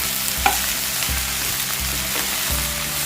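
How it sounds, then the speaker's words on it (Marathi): Sliced okra pan-roasts for bhindi bhaji with a loud, steady sizzle, broken by a few light scrapes as it is moved in the pan. "आणि अशी मी भाजून घेणार आहे भेंडी"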